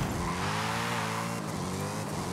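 A race car engine in the Forza Horizon video game roars loud and steady, with a rising rev and gear changes over constant road and tire noise, close and continuous with no talk.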